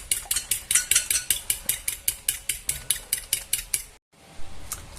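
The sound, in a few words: beating a mixture in a bowl until creamy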